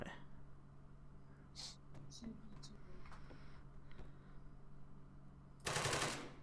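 Gunfire in the military shooter ARMA 3: a sharp loud burst near the end of the clip, after a few faint distant shots, all under steady background noise and game hum.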